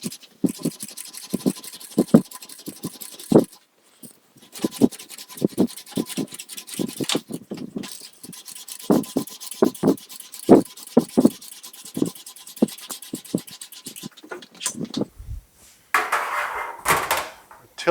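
Metal panel for the rear fascia of a 1940 Ford Coupe-inspired build being rolled on an English wheel, heard as repeated short scraping, rubbing passes in an uneven rhythm, close and moderately loud, with no talking.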